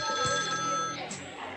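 A telephone rings with a continuous electronic trill, loud and close, in a 1980s film scene.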